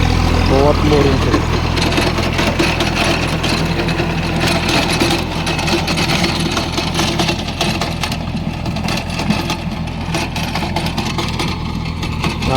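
A 21 HP Wegman tractor with a 4.5-foot rotavator runs steadily in a sugarcane field, its mid-pitched engine drone continuous and fairly close throughout with no clear pauses.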